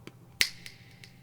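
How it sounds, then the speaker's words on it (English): A single sharp finger snap rings out close and clear in a quiet room, with a couple of softer clicks before and after it. "when I snap my fingers"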